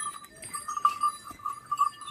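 A herd of indigenous Indian cows, with no Jersey cattle among them, heads home along a rural road; soft bell tinkles and faint animal calls repeat over a quiet outdoor background.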